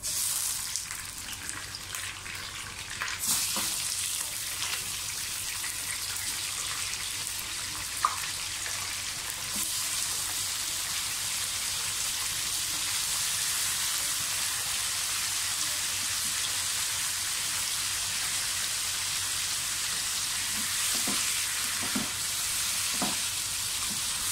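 Chicken pieces for chicken korma fry in a pan over previously fried onion, giving a loud, steady, dense sizzle throughout, with a few faint stirring clicks and no talk.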